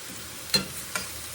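Cabbage and sausage hash sizzles softly in a pan as it is stirred, with two quick scraping strokes standing out over a steady low frying hiss.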